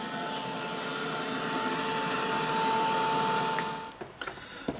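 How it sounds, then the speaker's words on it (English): A heat gun blowing to dry paint on an art journal page, a steady close whirring roar with a faint tone that cuts off near the end, followed by a few light taps. "So I'm going to put the paint away, grab my heat gun, get it dry,"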